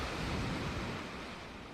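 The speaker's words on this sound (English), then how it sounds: "Just listen to those waves." Ocean waves wash steadily in the game Deadly Premonition, a continuous broad surf roar, even and moderately loud, with no talking.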